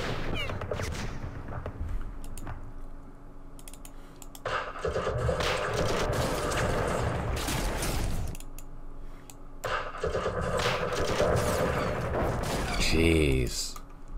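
Battle gunfire from the Vietnam war strategy game Campaign Series Vietnam, with loud bursts of shots and explosive rumble in two long volleys, close and dense, with a sharp rattle near the end.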